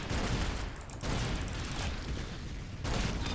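Gunfire from the Roblox shooter game Arsenal, a dense, continuous clatter of rapid shots that stays loud and unbroken, with only brief dips in intensity.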